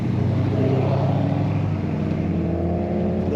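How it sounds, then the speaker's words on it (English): Low, steady rumble of a 1959 Ford Galaxie 500 Skyliner retractable hardtop convertible's engine idling smoothly, a deep continuous tone heard close up with no talk over it. "That low tone rumble that you like to hear from the large cars of the 50s and 60s."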